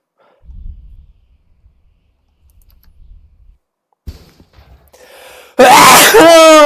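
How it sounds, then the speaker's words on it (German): A person sneezes once, a sudden loud close burst that follows near silence broken only by faint scattered keyboard typing. "Gesundheit."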